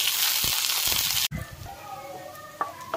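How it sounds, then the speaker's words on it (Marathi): Chopped garlic hitting hot oil in an iron pan, a loud hissing sizzle that breaks off abruptly, then settles into a softer, steady crackle with faint kitchen clatter. "तेल गरम झाले, त्याच्यात लसूण टाकू, छोटी कापून घेतलेली"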